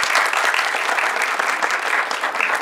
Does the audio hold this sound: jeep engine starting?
no